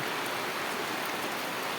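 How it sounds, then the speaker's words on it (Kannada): Sudden rain falls on a tarpaulin at a Malnad farm, making a dense, even hiss of drops that holds steady without a break. No voices are heard. "ಏನೋ ಮೇಲೆ ಟ್ಯಾರ್ಪಲ್ ಪಟ ಅಂತ ಶಬ್ದ ಬಂದಿತ್ತು. ಏನು ಅಂತ ನೋಡಿದ್ರೆ ಒಂದೇ ಸತಿ ಇದ್ದಕ್ಕಿದ್ದಂಗೆ ಮಳೆ ಶುರು ಆಗ್ಬಿಡೈತೆ."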